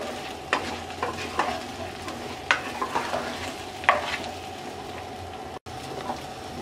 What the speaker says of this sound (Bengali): এবার বড়ইগুলোকে মিডিয়াম আঁচে 2 মিনিট ভেজে নেব।